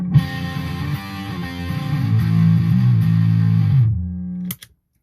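An electric guitar played through a ProCo FatRat distortion pedal in stock mode gives a loud, sustained, saturated chord that rings for about four seconds before being cut off, followed by a couple of faint string noises.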